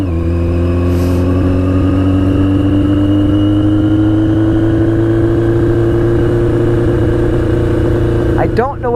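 A 1982 Yamaha Maxim XJ 750 barn-find motorcycle runs loud and close on its first ride, its engine droning steadily with a slow rising rev throughout and a brief rattle near the end.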